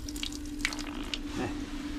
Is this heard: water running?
yes